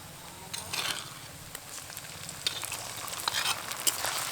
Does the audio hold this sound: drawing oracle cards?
no